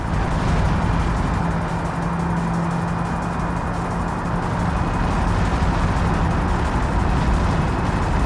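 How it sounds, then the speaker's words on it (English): A minivan engine runs in manual mode during a top-speed attempt, a loud, constant drone with a slightly uneven, strained tone and steady road and wind noise throughout. "The engine sounds weird like this."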